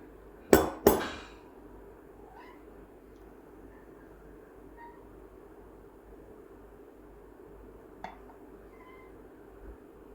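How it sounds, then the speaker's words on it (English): A milk jug is knocked on a kitchen counter while making a latte on a Breville Oracle BES980 espresso machine, two sharp close knocks in quick succession, then quiet with a faint later tap. "you want to knock the jug on the counter to break any air bubbles in the milk"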